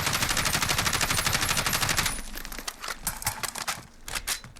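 Sustained full-auto bursts from an HK433C rifle in Call of Duty Modern Warfare, a dense rapid crackle for about two seconds, then scattered short shots and trailing clicks at lower level.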